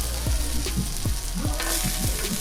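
Potato slices fry in canola oil with a steady close sizzle, punctuated by several rhythmic scrapes and knocks as they are stirred in the pan.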